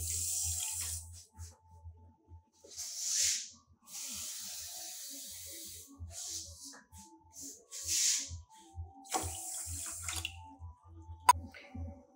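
Water runs and splashes in bursts into a pan holding sugar, made ready for syrup for powdered-milk lalmohan sweets, with a low steady hum underneath and a sharp clink near the end.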